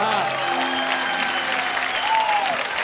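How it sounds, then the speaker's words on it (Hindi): Brief, full applause rolls through the audience at a live stand-up comedy show, with a voice briefly sounding above the clapping near the start and again toward the end. "आप भी शुरू हो जाओ तालियों की"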